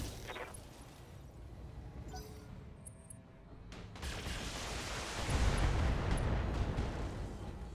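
In the mech combat game BattleTech, all of a mech's weapons fire at once, building into a loud rumbling barrage of blasts and explosions that swells in the second half and holds as a heavy roar.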